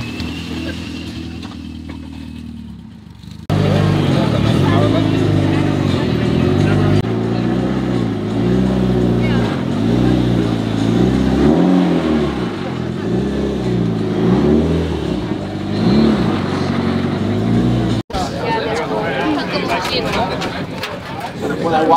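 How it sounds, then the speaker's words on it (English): Rally car on a gravel forest stage of the Oregon Trail Rally, engine roaring as it approaches and passes close by with rising and falling revs, loud for most of the stretch; people talk over it. "Got a car coming."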